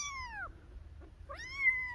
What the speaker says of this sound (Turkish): Benim bahçemde birçok kedi var.